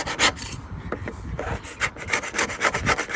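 A metal scraper grinds thick glue off the bare aluminum hull of a jon boat, a close, rasping scrape repeated in quick strokes with no talking.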